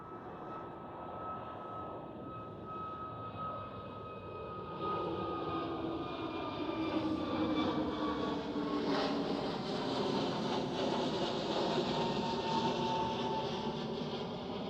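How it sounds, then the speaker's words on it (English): A KLM Airbus passes at Amsterdam Schiphol, its jet engine noise a steady broad rumble with a thin whine, swelling midway and holding for about fifteen seconds, fairly distant and unaccompanied by talk. "That was KLM Airbus"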